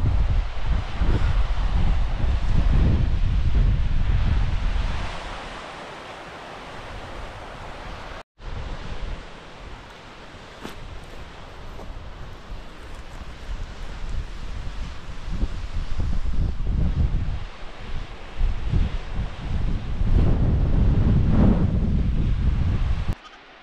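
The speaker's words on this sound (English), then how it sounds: "Back at the larger waterfall, Aber Falls." Aber Falls, a 120ft waterfall in Snowdonia, Wales, roaring as a broad continuous rush of water, swelling louder and easing back as the listening position shifts, with no voices.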